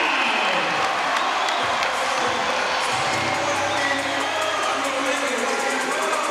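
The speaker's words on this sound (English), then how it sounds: "listen to this crowd" Basketball arena crowd in Singapore roaring and cheering at the end of the third quarter, a dense, loud, sustained wash of shouts and whoops with scattered applause throughout.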